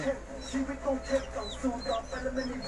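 Native Thai bantam roosters spar at close range, giving repeated short clucks and chirping calls in an uneven rhythm, with faint background noise and no talk.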